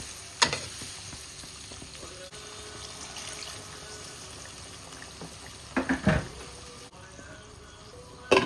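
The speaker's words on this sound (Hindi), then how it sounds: "इसको हम करेंगे अच्छे से फ्राई।" Masala for chicken biryani fries in a pan, a soft steady sizzle with a few louder stirring scrapes and clatters near the start and toward the end.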